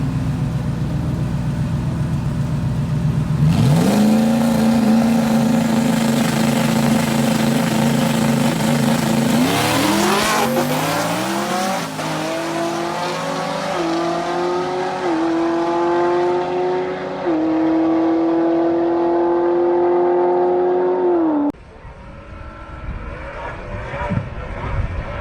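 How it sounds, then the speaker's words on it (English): A turbocharged Mustang GT makes a drag racing pass at a Florida track, its engine roaring loudly and climbing through rising revs and gear changes for about twenty seconds before cutting off, with a commentator talking over it. "avid VANVORIS, coming out of Amarillo, Texas here in the Mustang, making his first official hit of the weekend"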